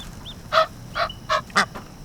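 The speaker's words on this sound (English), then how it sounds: "Go. Get out of here, ducks." Four loud, nasal honks from waterfowl on a wilderness road trip, evenly spaced about a second apart, close by over quiet outdoor background, with a softer call before them.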